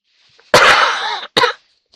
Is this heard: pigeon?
no